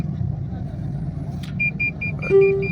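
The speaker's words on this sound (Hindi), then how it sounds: "सारी ट्रैफिक इस गाड़ी की वजह से जाम हुई पड़ी है" A traffic jam of cars on a congested road: low idling engine rumble with a series of short beeping horn toots followed by a longer held honk, close by.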